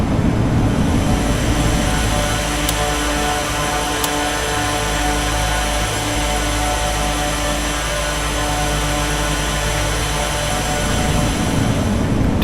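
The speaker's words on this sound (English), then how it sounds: "So the wind noise is very loud when that gear went down." Loud, steady roar of cockpit wind noise with the landing gear down in a RealAir Turbine Duke flight simulator, a constant broadband rush with a low engine drone underneath, unbroken throughout.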